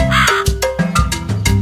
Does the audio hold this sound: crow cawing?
yes